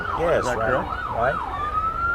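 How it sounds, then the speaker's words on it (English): A police siren at a parade wails in rising and falling sweeps, then holds a steady high tone, loud and close, with a few spoken words. "This is the first time I've been happy to hear sirens and see flashing lights approaching."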